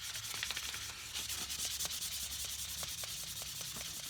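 A cigar box guitar is sanded by hand with fine grit sandpaper, giving a soft, steady, rhythmic rubbing scratch with repeated short strokes, close up and alone.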